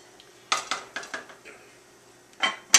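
A cooking pot is handled and covered on the stove, sharp metallic clanks and clinks in a few bursts with a louder lid clatter at the end, close and otherwise quiet.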